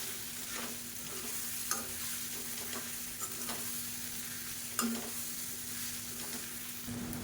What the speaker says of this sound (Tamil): சேர்த்துட்டு மறுபடியும் நல்லா பரட்டி விட்டுக்கலாம்.